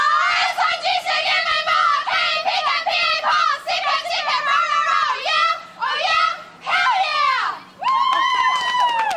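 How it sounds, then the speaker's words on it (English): A group cheer shouted by the Sigma Kappa booth at the 1990 Harvest Homecoming booth days: many young voices yelling loudly and continuously in near unison, with brief pauses between bursts and a final high, ringing shout. "And now for the cheer."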